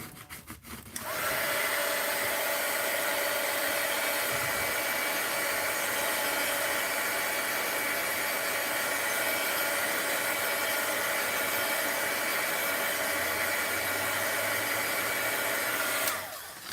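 A handheld dryer blowing on a mixed-media art journal page, a loud, constant whirring drone that runs for about fifteen seconds, then switches off.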